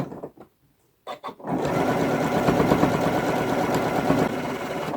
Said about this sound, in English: And then we're just going to sew this in.